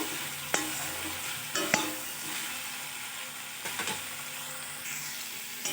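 Drumstick stalks with green chilli paste fry in a pan and are stirred, producing a continuous soft sizzle with several sharp scraping knocks of the spoon against the pan.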